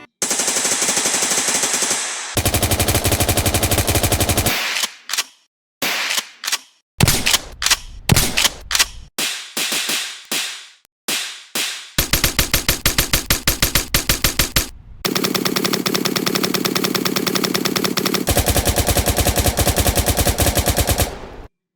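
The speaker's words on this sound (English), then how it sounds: "New gun sounds." Video game gun effects fire loudly with no other sound: long automatic bursts alternate with quick single shots and short rapid volleys.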